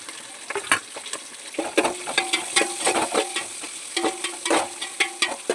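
Onions sizzle and crackle as they fry in a pan for a kerala-style home dish, with repeated scraping and stirring strokes cutting through the steady hiss, fairly close and alone without talk.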